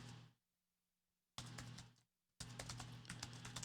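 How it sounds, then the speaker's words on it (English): Rapid keystrokes on a computer keyboard come in two close bursts of clicky typing, split by short quiet gaps, while someone writes C++ code. "Way too much typing"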